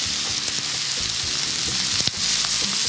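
Potatoes sautéing in oil in a pan, with a steady close sizzle and crackle, plus occasional clinks of utensils stirring, with no talk over it.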